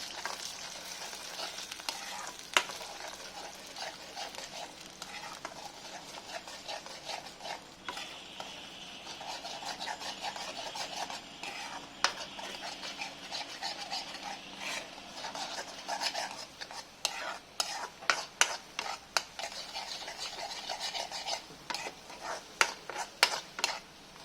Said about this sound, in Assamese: এতিয়া ডিমকেইটা মই লৰাই দিম।